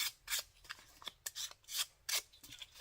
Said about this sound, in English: the edging, just going to take a bit of sandpaper.